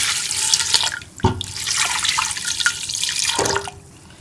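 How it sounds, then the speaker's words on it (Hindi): Two glasses of water run and splash steadily into a pressure cooker with beef, a continuous pouring stream with a couple of brief clanks, close and fairly loud. "और अब हम इसमें 2 गिलास पानी शामिल कर देंगे।"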